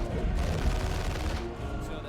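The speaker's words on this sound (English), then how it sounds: "Oh, there's Judgment from the Inferno pistol." Gunfire from an Inferno pistol in the real-time strategy game Dawn of War 2 crackles in dense, overlapping bursts amid a busy battle, loud at first and easing slightly toward the end.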